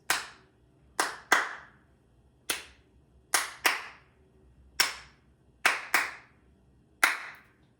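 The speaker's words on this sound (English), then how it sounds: "this new clapping part for the pre-chorus goes." Sharp, close hand claps in a rhythmic pattern for a song's pre-chorus at a slow tempo of about 80, arranged in irregular groupings of single and paired claps, each crisp with a short room ring.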